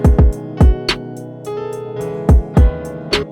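A hi-hat pitched down inside an RnB beat taps out crisp, darker-toned hits over deep booming kicks and sustained chords, loud and close with no talking.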